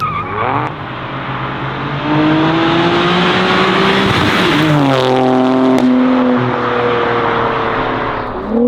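A 2023 Nissan Z sports car with full bolt-ons and over 500 hp roars as it approaches and revs hard, rising in pitch and sweeping past loudly with a sharp engine note.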